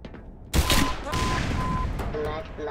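Bursts of machine gun fire in the shooter game Black Mesa, a loud sustained rattle of rapid shots with a few echoing booms, carrying on without a break for most of the moment.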